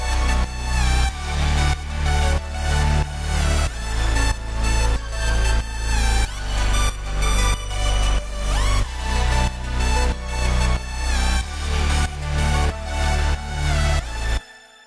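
Two layered synth leads stacked in a pop production, playing a steady rhythmic pattern over pulsing bass and beat, loud and continuous for about fourteen seconds before cutting off.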